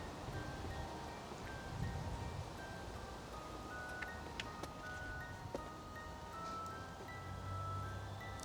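Wind blows hard outdoors at a cemetery and church ruins, a continuous roaring rumble buffeting the microphone throughout, with faint distant tonal sounds and no speech.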